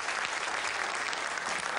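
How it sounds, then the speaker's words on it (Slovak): Steady, dense applause from a live audience at a public stage performance, filling the clip at a constant level with no break. "Veľký potlesk poprosím"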